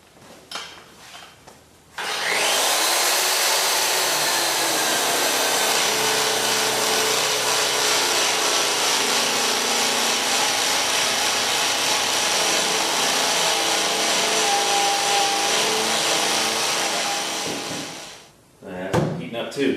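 Eraser wheel on a power tool rubbing a hood decal off a 1985 Mustang GT, a loud continuous grinding, scrubbing whir that holds steady for about fifteen seconds and then stops.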